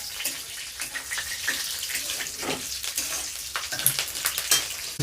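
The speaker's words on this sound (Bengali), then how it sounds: "ওই তেলের মধ্যে একটু দিয়ে দিলাম গোটা জিরে দু তিনটে তেজপাতা তিন চারটে কাঁচা লঙ্কা" Whole cumin seeds, bay leaves and torn green chillies fry in hot oil in a kadai, giving a steady crackling sizzle with scattered pops, close and continuous.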